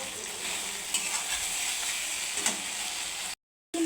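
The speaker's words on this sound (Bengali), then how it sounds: "ভালো করে এখন এটাকে আমি মশলাগুলো একটু ভেজে নেব।" Spice paste of onion, ginger, cumin and green chilli with turmeric and salt frying in a pot, a steady loud sizzle with scraping stirs, no voices.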